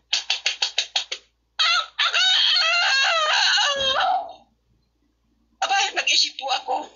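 A person imitates a rooster. A rapid series of thumps like beating on the chest leads into a long, wavering crowing call from the voice, and a shorter crow-like burst follows after a pause.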